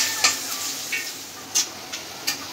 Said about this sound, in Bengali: পেঁয়াজটা বাদামি করে ভেজে নিন।